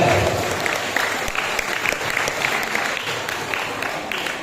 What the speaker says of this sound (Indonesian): Tepuk tangan untuk para kakak-kakak OSIS sekalian.